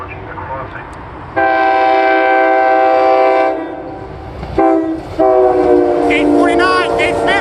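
A SEPTA Silverliner V regional rail train sounds its horn at the Lower State Road crossing: a long, loud chord blast, a brief pause, then a short toot and another sustained blast over the rumble of the passing train.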